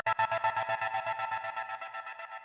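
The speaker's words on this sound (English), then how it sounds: "In place of the synthesizer, I recorded a highly processed guitar. I first drenched it in delay, run it through a tremolo," A heavily processed electric guitar soaked in delay, tremolo and reverb pulses in a steady rapid throb, its repeating echoes gradually thinning and fading out over a couple of seconds, with no voices.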